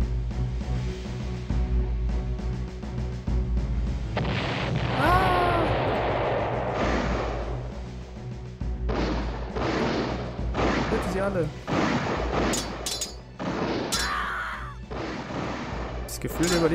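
Cannons on a pirate galleon fire in a naval video game battle, heavy booms and crashes scattered irregularly through the sequence, with someone speaking over them.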